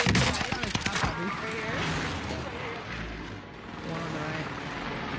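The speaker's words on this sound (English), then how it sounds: "Engaging mark for airstrike. This is Phoenix 3. Strike inbound." Airstrike explosions boom and crackle in a shooter video game, with dense overlapping blasts and gunfire-like bursts that keep rumbling loudly through the whole moment.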